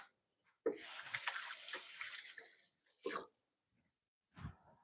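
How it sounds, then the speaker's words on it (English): A kitchen sink faucet runs as hands get a quick rinse while a beef stew and pear crisp are being made. One short splashing stream is followed by two brief, quieter bursts of water. "I'm gonna give my hands just a little rinse here."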